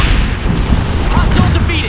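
Mortar strikes land in the World in Conflict: Soviet Assault war game as a loud, rumbling wash of booms and gunfire, dense and continuous, with radio-style voices talking over it.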